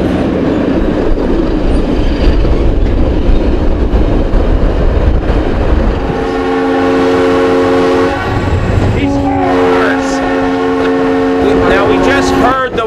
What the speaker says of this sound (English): We just heard the whistle blow 4 times